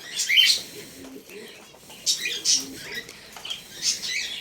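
Pet pigeons in their loft give soft chirps and calls in scattered small clusters, with light rustling and patter between them.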